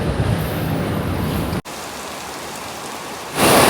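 Steady rain falls outdoors on a university campus, a dense loud hiss that cuts briefly and then continues more softly before swelling again.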